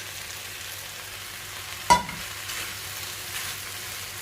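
An egg drops into a hot frying pan of chili fried rice with a single soft splat, then a faint, steady sizzle continues quietly with no talking.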